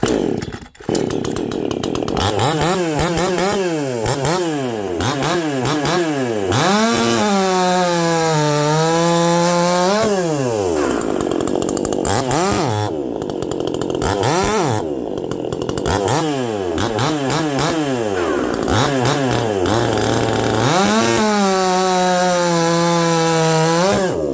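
A stock Stihl 23 RS chainsaw fitted with .325 chain cuts through wood, loud and close, its engine repeatedly revving up and bogging down in rising and falling whines during a long continuous cut.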